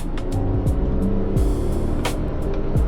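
A 2003 Toyota Avalon engine runs steadily while the car drives, a low, continuous hum with a few rising pitch sweeps as the gears shift. No one speaks over it.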